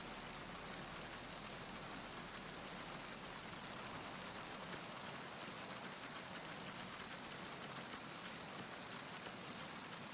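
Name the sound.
rain in video game Metal Gear Solid 2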